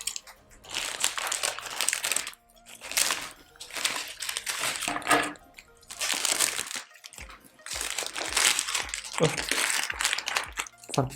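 Plastic and paper packaging around a newly delivered potted flowering plant crinkles and crackles in bursts, loud and close, with short pauses between handfuls.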